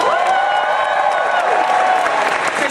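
An audience at the Anime Boston 2011 closing ceremony claps and cheers for guests, producing a steady wash of applause with scattered shouts throughout.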